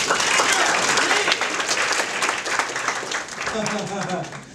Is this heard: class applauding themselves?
yes